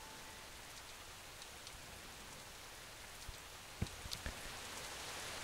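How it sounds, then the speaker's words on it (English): Steady rain falls over a town in a video game, a dense even hiss with a few scattered louder drops and taps, continuous and without talking. "now it's actually raining the entire time"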